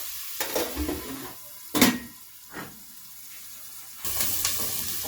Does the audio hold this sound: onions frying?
yes